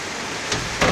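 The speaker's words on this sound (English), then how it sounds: "It's currently raining a lot." Heavy rain falling steadily outdoors as a broad, constant hiss, with two brief louder surges of splashing; no voices.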